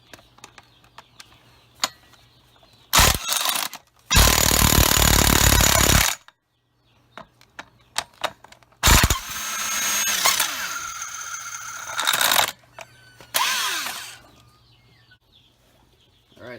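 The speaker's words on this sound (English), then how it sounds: "I've got a DeWalt impact wrench, you see there." A DeWalt impact wrench works on a frozen alternator on a Chevy truck, firing loud hammering bursts of about two seconds each in several separate runs, with short clicks and quiet gaps between them.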